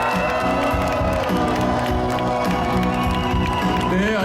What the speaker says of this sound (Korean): 우리와 같은 함성과 박수 부탁드립니다